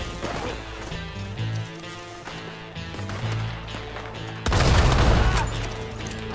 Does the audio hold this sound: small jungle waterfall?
no